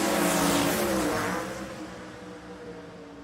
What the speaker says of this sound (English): That car did not sound good